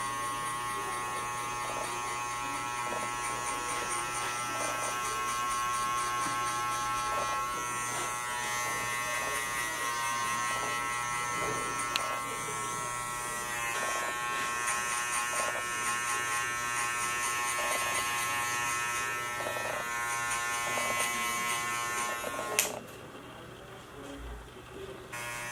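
Hair clippers buzz in a steady, close drone while cutting hair for a combover fade with side part, the hum holding evenly for over twenty seconds before cutting off abruptly near the end.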